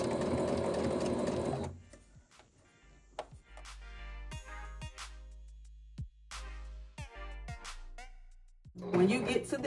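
A sewing machine stitches the hood of a tapestry hoodie with tassels, whirring in close, fast bursts separated by short pauses, with a voice talking before and after the stitching.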